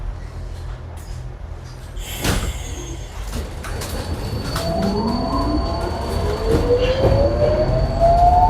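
A Budapest M2 metro train rumbles in under a steady roar, with rising whining tones from the motors and brakes as it slows into the station; a sharp clatter sounds midway.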